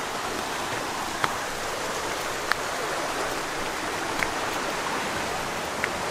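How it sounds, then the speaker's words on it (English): Kerosene Creek, a natural hot spring stream near Rotorua, New Zealand, rushes and splashes in a continuous even hiss with a few faint clicks, nearby and steady. "We made it to Kerosene Creek."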